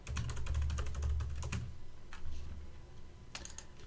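Rapid clicking keystrokes on a computer keyboard, close up, in two short bursts of typing separated by a brief pause, with a few lone taps afterward.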